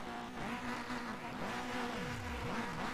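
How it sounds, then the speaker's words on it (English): A rallycross race car engine revving hard, its pitch sweeping up and down in repeated surges over a steady idle drone, loud and close with no speech. "Wetz revving the engine"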